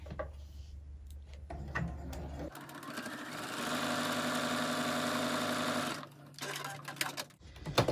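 A sewing machine stitching a quilt-as-you-go zipper pouch, one sustained close run of rapid mechanical whirring in the middle, with quieter handling clatter and short bursts before and after.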